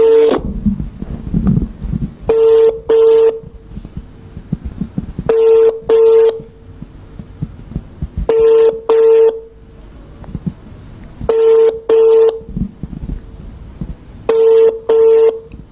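Telephone call on a handset, with repeated pairs of ringing tones at regular intervals over a low background rumble and noise.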